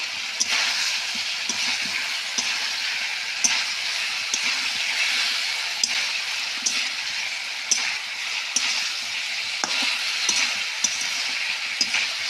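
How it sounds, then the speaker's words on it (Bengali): Fried fish is stirred into half-cooked cauliflower curry in a hot pan, a steady sizzle with repeated soft scraping and clinking stirs, no talking. "তো আমি এর মধ্যে দিয়ে দিলাম সেই ভেজে রাখা মাছগুলো।"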